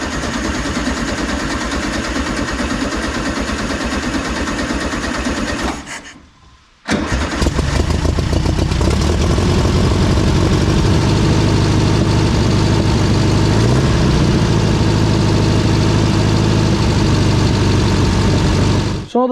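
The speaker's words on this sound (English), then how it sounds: "So the engine's running good enough now." A restored 1974 VW Beetle engine with a freshly tuned carb runs loud and steady, cutting out briefly near the start before catching again and settling into a continuous close-up idle.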